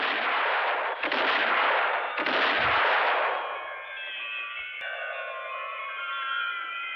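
Gunfire from a 1965 Western film, three loud sharp blasts about a second apart, followed by a fading echo and a faint, high, tinkling musical tone.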